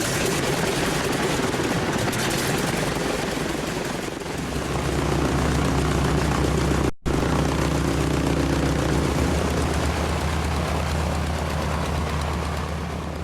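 Heavy old T-6 trainer airplane engine at an air show as power is added, a continuous loud droning roar filling the whole stretch with a brief dropout near the middle.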